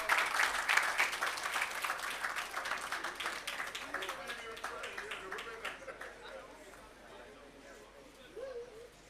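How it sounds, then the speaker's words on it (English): An audience claps at an outdoor launch ceremony for an irrigation system and agro park, with loud, dense applause that gradually thins and fades over several seconds as a few birds chirp in the background. "Please give her a round of applause."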